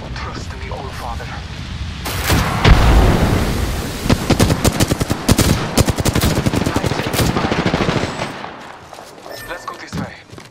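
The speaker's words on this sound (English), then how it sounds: "I am taking fire, friends." Gunfire in Apex Legends, rapid automatic bursts rattling loudly for several seconds and then tapering off, with a voice talking over the shooting.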